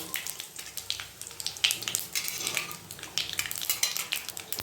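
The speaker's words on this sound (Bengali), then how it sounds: "এবারে আমি ফোড়নে দিয়ে দিচ্ছি এই যে সাদা জিরে, তেজপাতা আর শুকনো লঙ্কা ফোড়নে দিয়ে দিলাম।" Whole cumin, bay leaves and dried chilies frying in oil for a Bengali mutton kosha, a quiet steady sizzle with light scraping and clinks of a spoon stirring in the pan.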